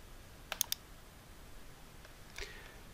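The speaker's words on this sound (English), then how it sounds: "Let's click on here." A few sharp computer mouse clicks while working in BandLab music software, a quick pair-and-triple burst near the start and a softer click later, close and quiet with no talking.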